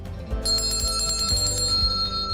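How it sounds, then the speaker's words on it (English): A bell rings in a Liberty Bell ceremony, giving repeated bright metallic strikes that sustain with a ringing tone, layered over a low rhythmic background pulse and heard with no talking. "Ring a bell to symbolize our Liberty Bell."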